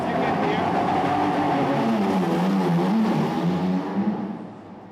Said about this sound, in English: the Peugeot 9X8, the hybrid hypercar from the brand